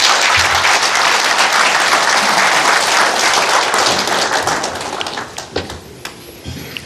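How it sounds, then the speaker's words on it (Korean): An audience at a presidential candidates' debate applauds to welcome candidate Hong Joon-pyo, a loud, sustained round of clapping that gradually thins to a few scattered claps. "바쁜 유세 일정 가운데서도 자리해 주신 홍준표 후보를 박수로 맞아주십시오"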